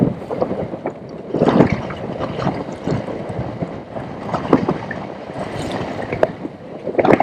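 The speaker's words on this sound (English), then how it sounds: "It's going to be interesting with this wind blowing" Wind blows at a kayak camp on a wilderness waterway. Gusts rumble and buffet the microphone close up, rising and falling steadily throughout.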